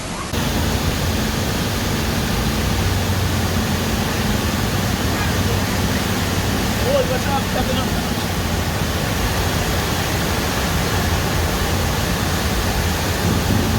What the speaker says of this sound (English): lots of water coming down from the hill